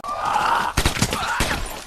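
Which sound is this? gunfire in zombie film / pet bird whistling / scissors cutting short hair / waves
gunfire in zombie film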